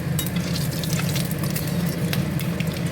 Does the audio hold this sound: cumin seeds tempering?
yes